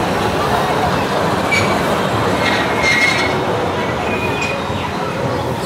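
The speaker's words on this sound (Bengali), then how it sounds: "ট্রেন চলা শুরু করেছে" Small amusement park train rolling off at a children's park, a steady loud rumble of wheels with faint metallic squeals rising over constant background noise, with some voices nearby.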